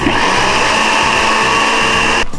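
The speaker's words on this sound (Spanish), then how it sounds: "vamos a proceder a licuar por alrededor de 2 minutos" A blender liquefies panettone dough ingredients with a loud, steady, close motor whine running continuously, then cutting off abruptly at the end.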